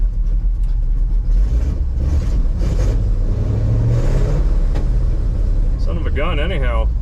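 A farm-fresh 1964 Chevy grain truck engine cranking and then running, a loud close rough mechanical drone that rises and shifts in pitch, with people talking over it.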